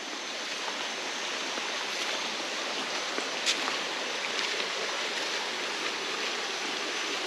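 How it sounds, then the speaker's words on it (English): Steady rushing of water over creek rapids at Phnom Kulen, Cambodia, a continuous broadband roar from a nearby stream, with no voices. "It's like another little creek and rapid section with no one"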